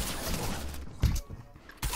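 Shotgun blasts in the game Fortnite, a couple of sharp bursts standing out against busy game noise, with a heavy close shot around the middle and another near the end.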